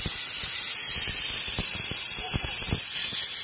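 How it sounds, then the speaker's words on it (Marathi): A pressure cooker cooking mutton lets out a loud, continuous high steam hiss from its whistle, with a voice faintly underneath. "आपली पहिली शिट्टी झालेली आहे कुकरची"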